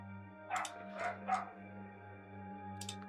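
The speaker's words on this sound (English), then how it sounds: "Can everybody hear the yappy dog?" A small yappy dog barks from somewhere off in the room, three quick sharp yaps in a cluster and then one more after a pause, over a steady electrical hum.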